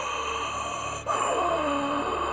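A person breathes heavily and audibly close by, with a sharp sudden gasp about midway through the short stretch, against a steady background hum.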